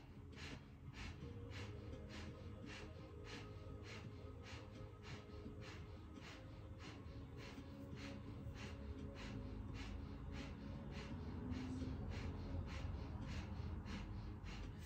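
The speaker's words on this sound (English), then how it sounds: "Breath of fire, panting like a dog through the nose." Breath of fire breathing: rapid, evenly spaced panting breaths forced through the nose, a long steady rhythmic series of sharp puffs heard close and alone.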